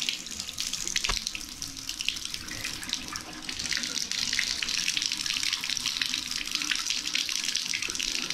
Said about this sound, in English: we'll open up the hot water side